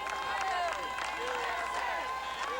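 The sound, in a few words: people cheering firefighters walking back to the firehouse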